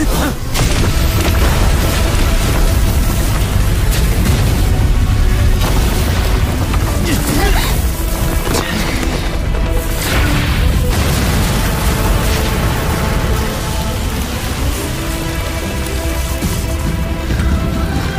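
A Thunder God's Wrath soul cannon blast from the Soul Land 2 animated battle: a loud, dense roar of booming, explosive rumble sustained across the whole stretch without letting up.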